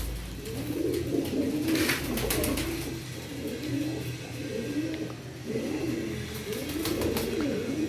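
Teddy pigeons coo continuously at close range, a steady layered chorus of low rolling calls that rises and falls in waves.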